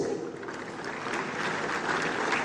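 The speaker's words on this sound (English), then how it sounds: "Please welcome him warmly with a round of applause" A round of applause at the Afreximbank 2023 Annual Meetings greets Mr. Michael Anyete, the Ghana Railway Company director. It is dense and steady, from a full hall, and continues for the whole stretch without a break.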